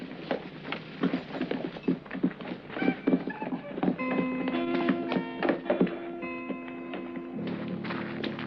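Horse hooves clip-clop in an uneven walking rhythm, moderately near, with steady tapping thuds and some background tones layered over them.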